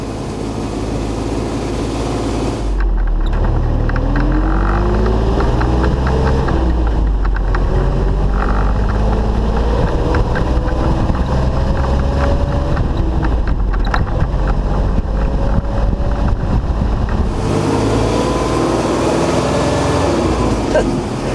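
Magirus Deutz 170D11 truck driven at full throttle after repairs, its engine a loud continuous roar with rising gear-change sweeps, windy and rumbling close by, starting and stopping abruptly within a quieter background.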